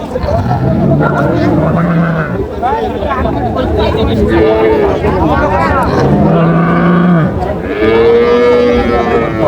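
At Ambari cattle market in Dinajpur, a dairy cow or calf lets out several drawn-out moos among other cattle, under constant crowd noise and people talking nearby.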